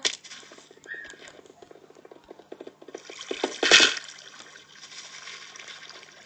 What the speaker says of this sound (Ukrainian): О, вода.